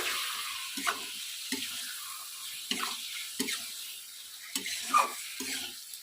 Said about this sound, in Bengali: এখন আমি এতে মাছগুলো দিয়ে দেব মাছগুলো দিয়ে আমি ভালোভাবে মিশিয়ে নেব